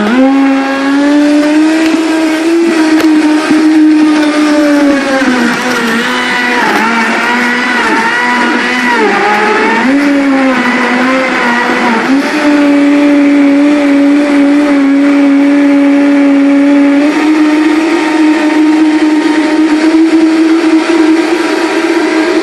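A Vitamix blender juicing, its motor whining steadily at a loud sustained pitch that wavers and climbs as the speed is raised toward high, with no talking.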